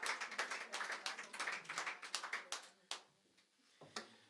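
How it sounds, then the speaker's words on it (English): A small live-session audience at Wintergrün claps for a guitarist, with a burst of quick, close hand claps that thins out into a few scattered final claps. "Give the man a round of applause."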